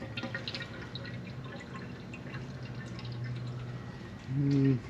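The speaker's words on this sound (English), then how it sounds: "I'm just going to pull the plug and let her drain." Hot engine oil draining from the pan of a Dodge Charger 3.6 after the plug is pulled, a steady close trickle and drip that swells into a louder pour near the end.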